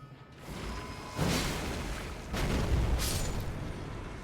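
Explosions in the video game Elden Ring go off as two heavy booms about a second apart, each a broad burst with a rumbling tail, set against a quiet mechanical game background.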